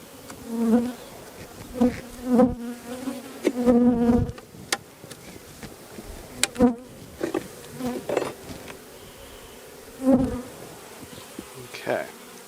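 Honeybees buzzing around a frame lifted from a hive during an inspection, with individual bees droning past close by in repeated swells and fades, some passes loud and near, against a quieter background hum.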